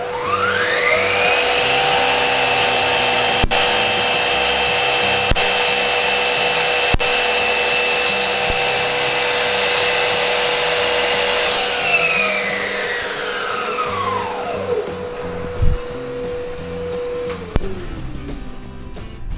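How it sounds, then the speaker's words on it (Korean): Shop vacuum dust extractor hooked to a Bosch GCM 18V-305 GDC cordless gliding miter saw, whining up to speed, then running loud and steady before spinning down, with a low hum lingering at the end. "청소기를 켜고요."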